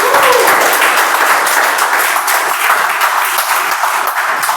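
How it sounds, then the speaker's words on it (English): Audience applause fills a Toastmasters meeting room as a member is called to the stage, steady dense clapping that stays loud and even from start to finish with no talking over it. "come up on stage with a big round of applause"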